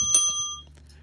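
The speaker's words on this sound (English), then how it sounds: "I'll move my little bell dinger out of the way here." A small desk bell rings once as it is moved on a table, a bright metallic ding that rings on briefly and fades within about half a second.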